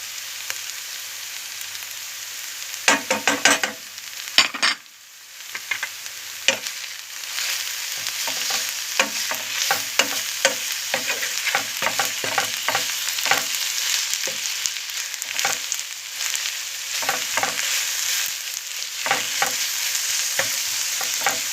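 A spoon stirs sea beans with salt, black pepper, cumin and a mint-thyme mix in a hot pan, giving repeated scraping strokes over a steady close sizzle.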